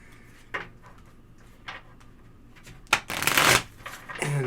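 An Ancient Egypt Tarot deck being shuffled by hand, with a few brief riffling bursts followed by a longer, louder flurry of cards, close and clear.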